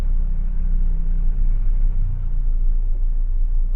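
Road traffic rolls past on Avinashi Road, a steady low rumble of car engines and tyres with no single vehicle standing out, continuous and fairly loud throughout.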